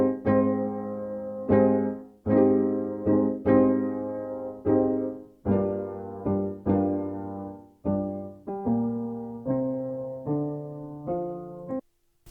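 Soulful R&B piano chord progression of three chords with a rising walk-up at the end of a four-bar section, chords struck and left to ring in a slow even rhythm, close and clear with no voices.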